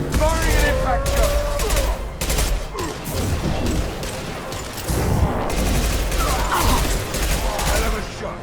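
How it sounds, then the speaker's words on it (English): Impact shot and rapid gunfire in Mass Effect 2 combat, dense bursts of loud shots and mechanical clatter in quick irregular volleys, with voices shouting over the fighting. "Firing an impact shot!"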